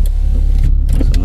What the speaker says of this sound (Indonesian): Semua power window bisa ya.